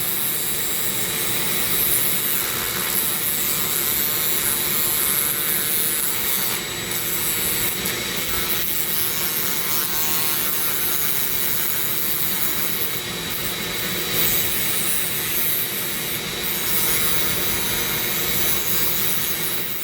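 Dremel sanding a zebra wood ring spinning on a lathe, a loud, steady high-pitched whine and grinding rasp that holds for the whole stretch with slight rises and dips, close and without talk.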